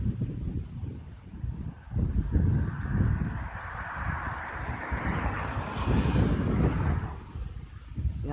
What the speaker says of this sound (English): He just picked up the wind.